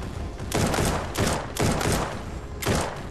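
An auto-aiming turret in a zombie shooter fires several loud, rapid bursts in quick succession, each a dense rattling volley separated by brief gaps.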